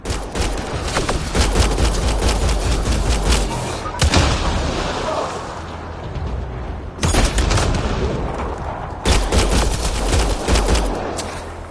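Gunfire crackles and booms through a firefight in Mass Effect Andromeda, with rapid volleys and heavy blasts layered densely over about twelve seconds, briefly thinning before renewed bursts.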